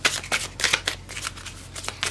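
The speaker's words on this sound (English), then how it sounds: "Okay, let me shuffle." A deck of tarot cards being shuffled by hand, with a rapid series of crisp riffling and slapping bursts repeating steadily, close and fairly quiet, with no talking.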